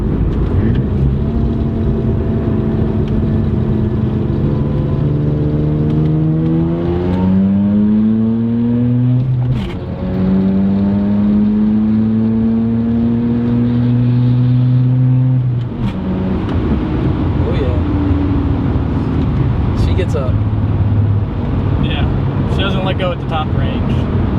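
A Mazda RX-7 engine, around 300 wheel horsepower, revs up and pulls hard through the gears, the pitch climbing, dropping at each shift, then rising again, loud and sustained with voices over it.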